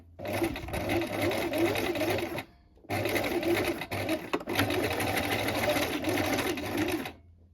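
A domestic sewing machine runs a straight stitch on an elastic-waist skirt in two long close bursts of rapid, even needle chatter, separated by a short pause and ending cleanly.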